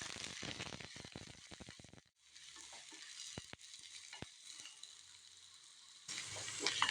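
Bitter gourd pieces frying in hot coconut oil for pickle, a loud crackling sizzle that cuts out briefly, returns with scattered stirring clicks, then surges louder near the end.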